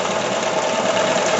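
A domestic sewing machine stitches knit fabric with overlock thread, giving a steady, fast mechanical whir at close range with no breaks across the short stretch.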